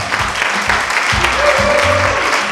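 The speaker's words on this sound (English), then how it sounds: "Nice big round of applause for Carl." Audience applause at a live performance event, a dense, steady wash of clapping that stays loud throughout, with faint voices mixed in underneath.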